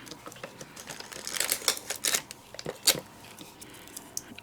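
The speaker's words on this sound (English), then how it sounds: "I'm just going to tape this on the back" Tape is pulled and pressed onto the back of a small skewer for a holiday candy bouquet, giving close, crackly tearing and rustling bursts that swell in the middle of the clip.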